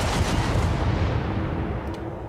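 Artillery strike called down in Helldivers, a sustained roar of heavy explosive barrage rumbling loud and dense throughout, slowly easing toward the end with no voices.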